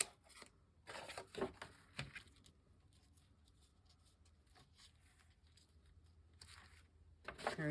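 Scissors snip through paper during a craft session, a few crisp cuts and rustles near the start and again at the end, with quiet stretches between.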